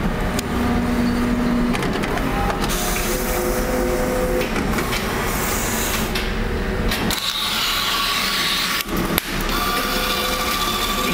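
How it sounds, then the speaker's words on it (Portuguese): A Canon iPF670 plotter printer trims off the remaining paper after printing, giving a steady mechanical whir with shifting motor tones, a brief clack near the end, and no talk over it. "Agora ele vai cortar o restante do papel, aquele lá que ele fez a impressão do código."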